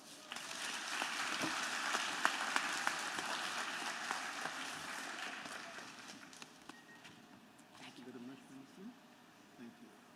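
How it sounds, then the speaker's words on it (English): Sustained applause from a large audience at a graduation ceremony, a dense steady patter lasting several seconds and tapering off, with voices and crowd noise mixed in. "Let's give the minister another round of applause"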